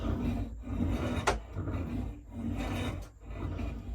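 Grinding, rasping rub of non-functional brake blocks against rusty wheels on a 5-inch gauge model railway plank wagon, coming in repeated waves with brief squeaky scrapes, moderately quiet and close.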